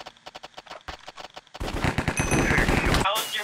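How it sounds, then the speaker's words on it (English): Rapid bursts of M4 rifle fire in a Minecraft-style Sky Wars duel game, first as spaced sharp shots, then a dense, loud sustained volley close by, with a voice talking over the opening shots. "I'll use an M4, the ultimate favorite gun of everyone who plays favorite."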